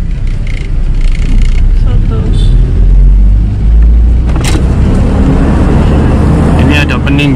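A car climbs an uphill road and is shifted from first into second gear, giving a loud, close engine rumble with buffeting wind noise, a few knocks and rattles, and a low surge partway through.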